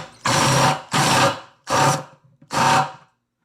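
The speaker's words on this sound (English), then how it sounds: "Next, we're going to drill this." A power drill with a bit bores into a plastic container in four short, loud whirring bursts separated by brief pauses, close up and with no talking.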